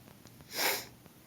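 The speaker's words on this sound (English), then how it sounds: "Pardon my sniffles." A single close, breathy nasal sniffle from someone with a cold, a short rushing burst swelling and fading in about half a second, alone against quiet room background.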